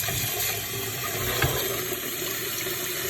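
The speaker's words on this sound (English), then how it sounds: "Rinse them out really nice with cold water." Cold tap water runs steadily over peeled potatoes in a sink, a close, continuous splashing rush with a brief louder splash partway through and no talking.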